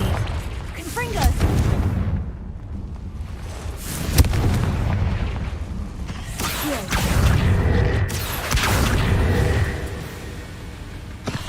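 A Confringo blasting spell detonates in the Hogwarts Legacy game inside a cave, bringing several deep booming blasts with rumbling tails and crackles, loud and close, mixed with game voices and effects.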